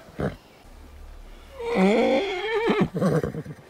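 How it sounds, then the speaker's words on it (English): An injured horse gives a loud, close whinny in pain, a wavering, high, shrill call in the middle that breaks into snorting pulses, with brief breathy sounds before it. "The horse is in pain, you ignorant pig!"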